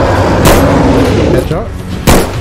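Two sharp gunshots ring out in a Bigfoot video game, one near the start and one near the end, loud over a steady background of game ambience, with a voice briefly audible between them.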